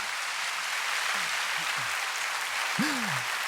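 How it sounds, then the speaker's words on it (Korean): Studio audience applause after a live folk song performance on a music talk show, a steady broad wash of clapping at moderate level, with a voice speaking briefly over it near the end. "우리 두 분께 박수를 좀 보내주시죠"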